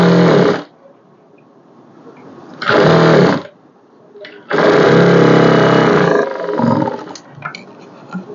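A sewing machine stitches a blouse sleeve in loud, close bursts, three runs of whirring separated by quiet gaps, the last one longest and tapering into light clicks.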